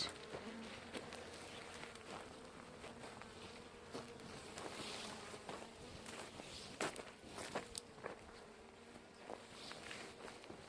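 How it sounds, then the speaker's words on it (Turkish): A steady buzz of bees hangs over an outdoor lavender garden, with faint scattered ticks and light movement sounds; no one speaks. "Bolca arı var."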